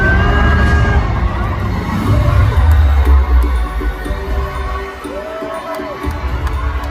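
A loud audience cheers and shouts at the Miss Thailand 2025 pageant during the Top 5 announcement, a dense roar of voices swelling and ebbing over a low throbbing hum from the hall.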